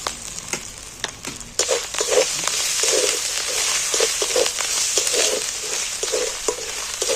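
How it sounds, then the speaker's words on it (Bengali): Spices with turmeric and dried red chilli frying in oil in a pan, a continuous bright sizzle broken by repeated scraping stirs of a spoon. "দেখো মশলাটা ভাজাও হয়ে গেছে"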